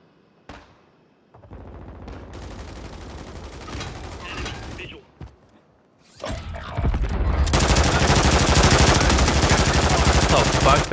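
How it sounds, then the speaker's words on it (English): Gunfire from another player in a Call of Duty video game: a few scattered mechanical clicks and short bursts, then a long, loud, continuous automatic barrage filling the final seconds, close and harsh. "Ben was just shooting at me like no other, bro"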